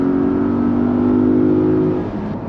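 Porsche Cayenne engine accelerating from inside the cabin, a steady low droning hum that rises gently before easing off near the end, heard alone without talk.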